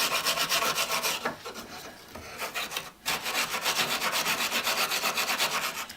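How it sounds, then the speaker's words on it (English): Stainless steel wire brush scrubbing chemically stripped wood in steady, rapid back-and-forth strokes, loud and close, with a short pause near the middle. "this is just a little stainless steel brush from Harbor Freight"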